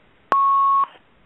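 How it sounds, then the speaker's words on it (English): A single steady electronic beep on a caller's phone line, one sustained tone lasting about half a second that stops abruptly, with no talk around it. "I'm not sure what that beeping is"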